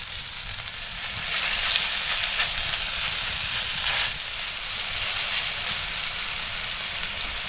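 Fish frying in oil on a wood-fired clay stove in a Konkan home kitchen, a dense continuous hiss that swells when more oil is poured in, with no voices.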